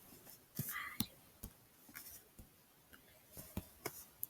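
A pencil scratches across paper while human legs are sketched, in short close strokes and taps with quiet pauses between them and faint soft speech under them.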